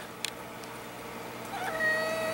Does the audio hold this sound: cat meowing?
yes